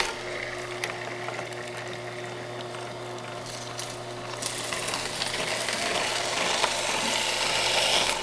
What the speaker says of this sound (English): Today we're juicing organic orange carrots